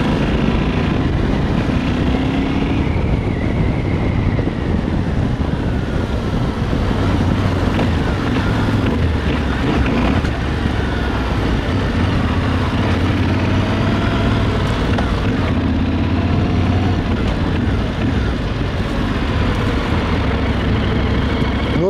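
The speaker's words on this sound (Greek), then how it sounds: "Το μηχανάκι είναι για εντούρο" A Yamaha Ténéré enduro motorcycle engine idles and revs unevenly close by, a throaty rumbling drone with rising and falling throttle over a long stretch.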